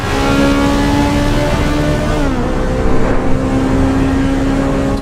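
Race car engine in Assetto Corsa Evo held at high revs toward top speed, a steady loud drone with a brief dip and pitch shift midway like a gear change, then pulling on alone.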